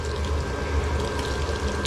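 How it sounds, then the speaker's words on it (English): Water squeezed by hand out of grated potato gives a short, steady wet trickle and splatter close up, with a faint background hum and no talk. "Squeeze as much out as you can"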